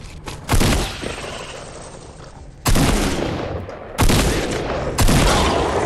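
Dense bursts of loud automatic gunfire in Fortnite's zombie mode, one long sustained volley followed by several shorter rattling bursts that restart abruptly, up close and dominating with no talk over it.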